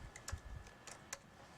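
A few soft clicks of typing on a computer keyboard while writing code, quiet and close, in a short irregular burst.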